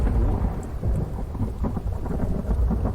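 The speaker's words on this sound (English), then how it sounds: "Lightning struck my floor." Thunderstorm in the survival game Infected, with a deep, rolling rumble of thunder over steady rain, loud and close, surging in several waves without pause.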